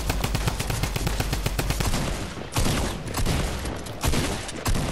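Rapid bursts of automatic gunfire from a drum gun in the video game Fortnite, with dense, loud rattling volleys broken by short pauses.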